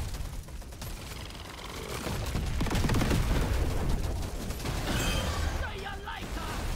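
Explosions and gunfire from a chaotic cave fight in the video game Deep Rock Galactic, a dense continuous roar of blasts and rapid shots that swells in the middle, with a few electronic game tones near the end.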